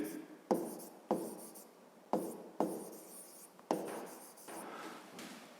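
Handwriting during a fifth-grade maths lesson on units of time, heard as several distinct strokes, each with a sharp onset and a scratchy fade, repeated about every half second to second, with someone speaking over them.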